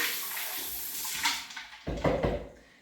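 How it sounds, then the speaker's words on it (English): Water running and splashing as a cocktail glass is quickly rinsed out while a Manhattan is made, a steady wash of flow giving way to louder, choppier sloshing near the end. "So I'll rinse this out just quickly."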